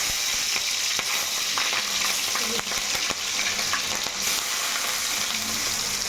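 Onion slices and green chillies fry in hot oil for a gongura chicken curry, a loud, constant close sizzle with scattered crackles and stirring scrapes throughout.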